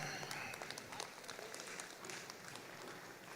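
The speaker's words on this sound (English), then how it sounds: "Let's give these 8 juniors that we have in the ring a round of applause." Steady applause from a crowd at a junior beef cattle show ring in Regina, Saskatchewan, many hands clapping continuously at a distance, fairly quiet and even throughout.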